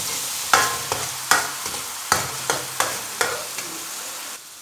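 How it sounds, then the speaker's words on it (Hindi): Onions browning in a pan for a cabbage and pea curry, with a steady soft frying sizzle broken by a series of sharp scraping stirs of a spoon against the pan at an irregular rhythm, close and fairly quiet. "प्याज को ब्राउन करते हैं।"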